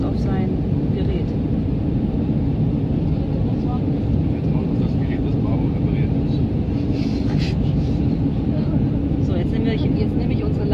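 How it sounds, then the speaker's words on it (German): Airliner landing at Sarajevo airport in fog, heard from inside the cabin as a loud, steady, broadband roar of engines and airflow throughout, with faint voices over it. "Jetzt nehme ich unsere Landung auf."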